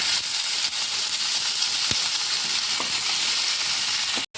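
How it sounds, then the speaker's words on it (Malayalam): Sliced onions frying in hot coconut oil give a steady, dense sizzling hiss that holds evenly throughout, with a few faint clicks and no talking. "ചൂടായതിനു ശേഷം അതിലേക്ക് വെളിച്ചെണ്ണ വെച്ചെടുക്കുക പിന്നെ നമ്മൾ സോപ്പ് ചെയ്ത് വെച്ച സവാള ഇട്ട് വെക്കുക"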